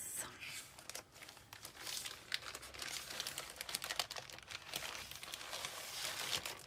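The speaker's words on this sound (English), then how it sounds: "Sorry, crinkly bag." A crinkly plastic bag of papercraft supplies is handled close up, crackling and rustling in irregular bursts throughout, fairly faint, with a voice talking quietly underneath.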